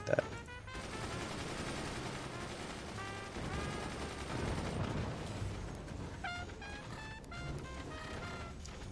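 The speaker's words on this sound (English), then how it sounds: "That sounds suspiciously like mortars." Mortar fire in the physics-based RTS game Forts, with dull distant launches and impacts scattered over a steady rumbling battle din, plus a sharp burst at the start and tonal game effects.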